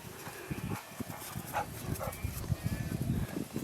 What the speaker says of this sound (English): Got some dogs out here, the neighbors here, the dogs are here.